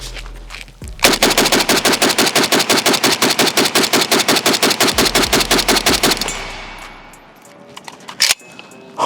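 A Pioneer Arms Hellpup AK pistol in 7.62x39 fires a full magazine in one long burst of rapid, evenly spaced loud shots, roughly five seconds of fire, then a fading echo and a couple of faint clicks.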